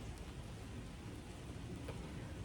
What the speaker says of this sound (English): it's just been raining so hard